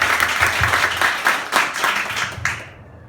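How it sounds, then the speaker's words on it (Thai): A roomful of people at a sales team gathering claps loudly for a colleague, dense applause that swells in waves and then fades out quickly at the end. "ขอเสียงตบมือดังๆให้พี่บุนค่ะ"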